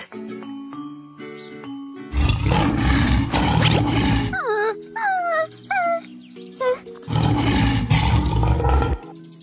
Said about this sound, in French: Le lion est un mammifère carnivore.